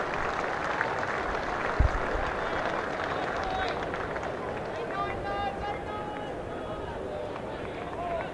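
A crowd at a Middlesex versus Yorkshire one-day cricket match applauds a departing batsman with steady, moderate clapping and a low murmur. Commentators talk over it throughout, and a single sharp knock stands out early on.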